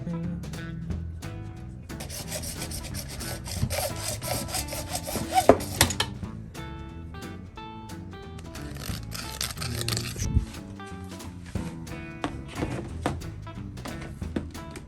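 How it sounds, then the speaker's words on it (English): A hand saw cuts through a length of PVC pipe in a long run of quick, rasping back-and-forth strokes, close and fairly loud, pausing briefly around the middle before the strokes resume. "So Connor just finished up cutting a 17-inch length of PVC"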